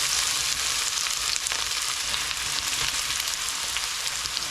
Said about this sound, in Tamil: அதே நெய்க்குள்ளே நாங்கள் எடுத்து வச்சுருக்கிற இந்த பூசணிக்காய் பம்கினை வந்து போடுகிறேன்